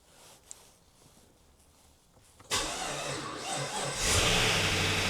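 A Holden VF with an LFX-to-L77 engine swap cranks and fires up after a quiet lead-in, the V8 catching abruptly and settling into a loud, steady run that swells again near the end.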